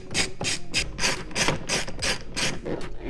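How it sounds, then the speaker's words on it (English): Plastic trim covers being pried off the A-pillar of a Ford Transit van, giving a series of about eight sharp, close scraping clicks at a steady, quick rhythm with no talking. "And we're going to go ahead and just pop these covers off."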